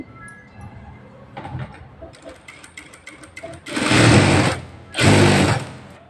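A sewing machine stitches a blouse with an invisible piping foot, starting with light intermittent clicks and then running in two loud bursts of rapid, steady whirring close up.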